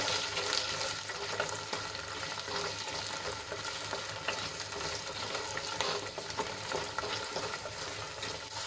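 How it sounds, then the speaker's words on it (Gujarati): Gunda (glue berries) sautéing and being stirred in a pan, a steady broadband sizzle with scraping stir noises running continuously and evenly at moderate level, no voices. "આપણા ગુંદા થોડાક સોફ્ટ થાય ત્યાં સુધી એને સાંતળી લઈશું તો આ રીતે આપણે એને હલાવતા જઈશું"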